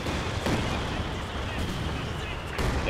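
Mortar fire in the World War II strategy game Company of Heroes, in a 4v4 match on the Port of Hamburg map: a dense, continuous roar of distant shelling and gunfire with occasional heavier thumps throughout.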